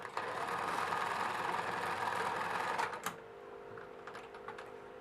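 Sewing machine running a seam on a waist jacket, a fast close rattling whir for about three seconds that stops abruptly, leaving quiet handling clicks.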